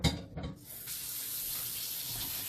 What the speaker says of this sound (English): Don't worry about hearing the water running. I'm putting hot water in that steel so I can wash it